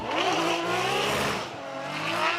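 A Formula Drift car holding heavy throttle and wide angle through an inside clipping point, its engine revving hard and steady while the tires squeal continuously, loud and close with no voices.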